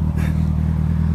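Honda CB1000 motorcycle engine running close by, a steady low rumble with a brief swell of noise near the start, alone without talk.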